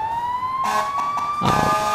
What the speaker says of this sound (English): I love that they actually use the sirens and horns and everything.